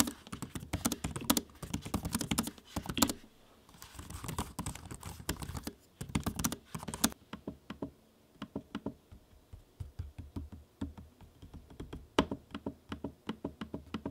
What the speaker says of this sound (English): The ProBook, once again, has that nice firm click activation on the trackpad, just like the keys.